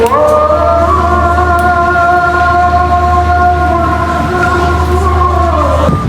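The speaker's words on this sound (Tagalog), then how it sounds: "Grabe, ang ganda ng tren nila oh." A Singapore elevated train arrives toward the Universal Studios station, a loud, steady rumbling hum with sustained whining tones that holds for several seconds and eases slightly near the end.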